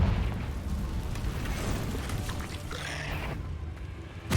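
Confringo blasting spell from Hogwarts Legacy going off in a cave: a loud, sustained rumbling blast with crackling debris that fades, then a sharp burst right at the end, with no talk.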